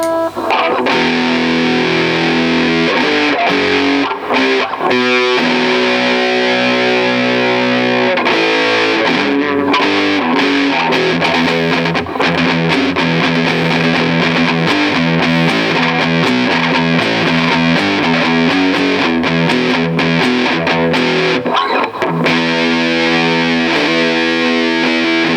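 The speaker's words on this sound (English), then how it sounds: "if we shove a bit of distortion on" Loud distorted electric guitar from a Squier Stagemaster V4 Deluxe plays chords and riffs continuously, thick and gritty, with no voices over it.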